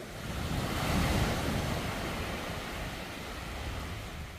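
Ocean waves on Namhae's Eunmorae sand beach, with fine, flour-like sand: a continuous broad wash of surf, close and fairly loud, with wind buffeting the microphone and no voices.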